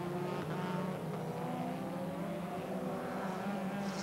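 A Mercedes race car braking late into a corner during a 1992 Danish Grand Prix heat, its engine a steady, continuous drone with tonal harmonics, fairly distant and consistent throughout.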